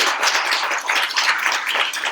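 A congregation inside a basilica claps in steady, even applause, a dense reverberant wash of many hands filling the whole stretch.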